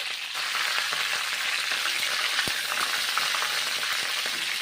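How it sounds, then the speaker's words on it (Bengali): Cauliflower frying in hot mustard oil, a steady loud sizzle up close with a few light clicks of utensils against the pan. "ফুলকপিগুলো ভেজে নিচ্ছি সর্ষের তেলে গরম তেলে বেশ ভালো করে ভেজে নিচ্ছি"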